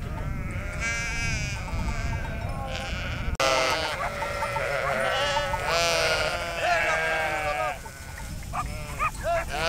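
A large flock of sheep bleats loudly and continuously in the Retezat mountains of Romania, many overlapping voices close by, while a shepherd shouts over them and a dog barks now and then.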